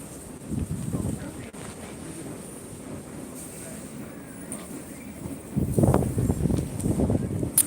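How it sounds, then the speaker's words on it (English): Wind on a very windy day buffets the microphone outdoors in low, rumbling gusts, strongest at the start and again near the end. "The wind."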